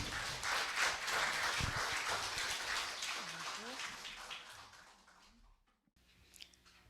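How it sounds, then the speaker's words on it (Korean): Steady applause from a lecture forum audience welcoming a speaker, fairly distant, gradually fading out, with a murmur of voices underneath. "여러분 큰 환영의 박수 부탁드립니다"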